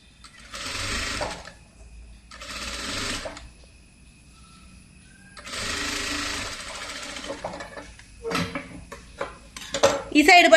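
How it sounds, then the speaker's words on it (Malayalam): A sewing machine runs in three loud bursts stitching the shoulder seam of a slit V-neck kurti, with short pauses between, followed by clinks and rattles of handling near the end. "ഓക്കെ, അപ്പൊ നമുക്ക് നന്നായിട്ട് ഇങ്ങോട്ട് സ്റ്റിച്ച് ചെയ്തിട്ട് എടുക്കാം."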